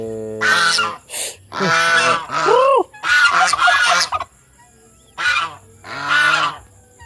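Free-range Rhode Island Red chickens, about three months old, give loud, close honking squawks and calls in several bursts with short pauses between them.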